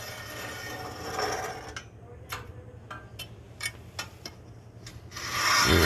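A long tool scrapes and rakes ash out of a rocket mass heater, giving soft rubbing strokes broken by a run of sharp metallic ticks and clinks at close range, with no voices.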